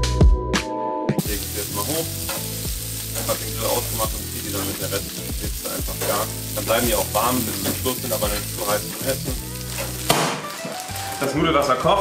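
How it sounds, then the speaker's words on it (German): Scampi sizzling in olive oil on a hot grill plate, a loud, continuous frying hiss and crackle that runs steadily throughout with occasional clatter. "Dann gehen wir auch hier mal mit ein bisschen Olivenöl ran und packen einfach unseren Scampi auf die Plansche."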